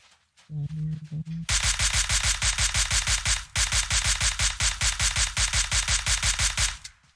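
Rapid automatic gunfire in PUBG Mobile, a long, loud, evenly spaced burst of shots running several seconds with a brief pause midway, preceded by a short voice.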